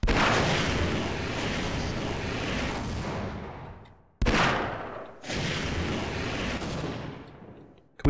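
Rapid turret fire from the Half-Life video game, loud dense bursts of gunfire in three long volleys separated by short gaps, each trailing off with an echo, no talk over it.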